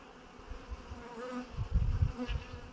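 Honey bees buzzing around an opened Ukrainian hive at an abandoned apiary, a close, droning hum that swells and fades as individual bees pass near, with no talking.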